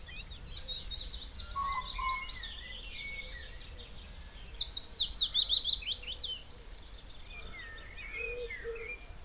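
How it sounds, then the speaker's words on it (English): Birds chirp and sing outdoors in quiet rural Weardale, including a cuckoo and wood pigeons, with one bright, rapid trilling phrase standing out in the middle over softer calls. "I can hear cockerels, I can hear a cuckoo, wood pigeons"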